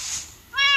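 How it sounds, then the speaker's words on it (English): A tamed cat in the Minecraft video game gives a single short, clear meow near the end, after a brief faint high tone. "And now I finally tamed this cat."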